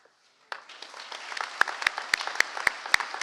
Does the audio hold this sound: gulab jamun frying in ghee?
no